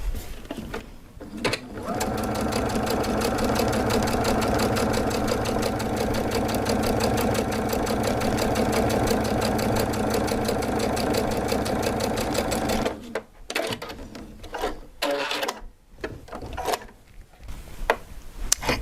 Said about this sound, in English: I'm just going to sew along this one edge